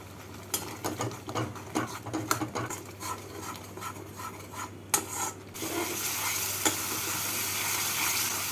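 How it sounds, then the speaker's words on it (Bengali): Spice masala with Kashmiri red chilli powder and sugar fries in oil for a vegetarian paneer gravy. A spatula rasps and scrapes in irregular strokes, then a steadier, louder sizzle takes over near the end. "মশলাটাকে ভালো করে কষিয়ে নেব"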